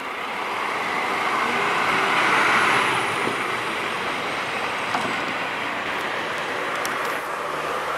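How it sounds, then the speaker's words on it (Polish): A hybrid bus stands outdoors with a broad, steady engine and road rumble, swelling slightly in the first seconds and then holding as a continuous hum with faint background traffic, no talk. "A tam stoi hybrydowy autobus."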